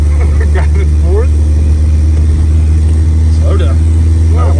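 A 1994 Ford Ranger pickup with a 2.3 or 2.5 engine after a transmission swap, driving in fourth gear, gives a loud, steady low engine drone with faint voices briefly over it.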